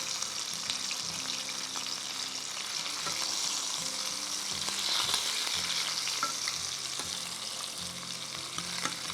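A beef fillet searing in a hot pan, a continuous crackling sizzle with faint music underneath, fairly quiet and steady.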